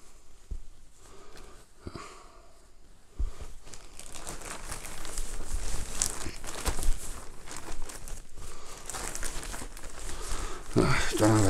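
Paper crinkles and rustles steadily while a package is wrapped, the handling growing louder and denser after the first few seconds, with brief sniff-like noises mixed in.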